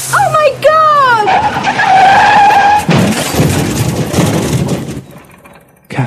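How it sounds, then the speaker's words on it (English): A bicycle crashing into the side of a lorry: a sharp rising screech of skidding, a heavy crash with scattered debris, then the noise fading into near silence. "She saw the look of horror on the lorry driver's face just before she crashed into the side of his lorry."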